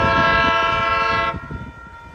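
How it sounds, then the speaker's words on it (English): Amtrak 732 Capitol Corridor passenger train to Sacramento sounding a loud sustained multi-tone horn near Eckley Pier by Crockett, California, the horn cutting off after about a second as the train rumbles on. "this is Amtrak 732 Capital Corridor train to Sacramento"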